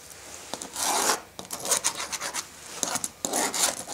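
Close scratchy rubbing strokes of a pencil marking wood while building a router table insert, several short rasping bursts in an uneven rhythm in a quiet workshop.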